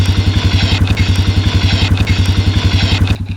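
A four-wheeler engine runs close by with a rough, fast, even putter and a loud low throb, clattering throughout before it cuts off near the end.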